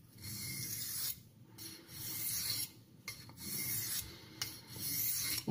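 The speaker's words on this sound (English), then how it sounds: "And I'm switching to a Washita, a natural stone from Arkansas. You can hear the difference," A French pocket knife blade strokes across a Washita natural Arkansas sharpening stone, rhythmic scraping rasps of about a second each with short pauses between, close and quiet.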